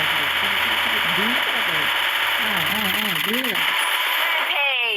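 A video-game motorbike engine revs and whines with rising and falling pitch sweeps, over constant background game noise and a voice talking.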